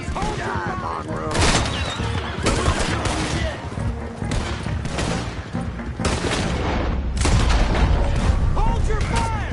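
Gunfire in Red Dead Redemption 2, a chaotic fusillade of overlapping shots and sharp cracks at irregular intervals, loud and close, with shouting voices mixed in.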